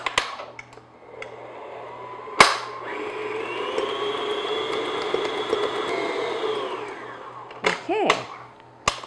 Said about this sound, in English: I'm just going to beat that on medium speed just until it's nice and smooth